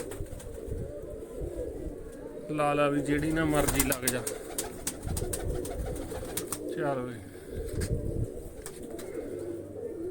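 Pigeons coo in short throaty bursts nearby while someone talks over them, with some fluttering and shuffling in between.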